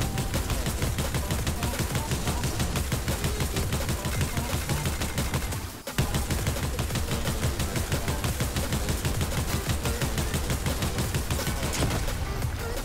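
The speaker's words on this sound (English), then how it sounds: "Pump shotgun is back, baby." Rapid, steady video-game gunfire rattles on almost continuously, with a pump shotgun among the weapons, broken by a brief pause midway before the barrage resumes.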